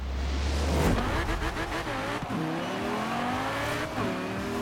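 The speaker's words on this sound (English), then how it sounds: "so you're just passing your opponents in your Super GT car" Super GT car in Forza Horizon 4 racing on Princes Street, its engine loud and close, revving through gear changes with rising and falling pitch as it passes opponents, faint tyre squeal.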